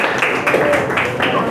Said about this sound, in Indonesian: tepuk tangan dulu dong untuk kelompok 3